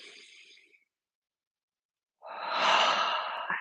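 A deep breath during a gentle yoga breathing exercise: a soft exhale trails off into a second of silence, followed by a long, close, airy inhale that swells and holds, heard alone with no talk.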